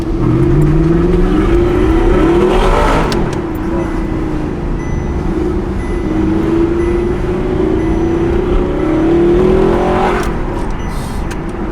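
A straight-piped, manual Audi R8 revs hard and loud up close, its rising and falling engine roar swelling in repeated pulls with a sharp burst near the end.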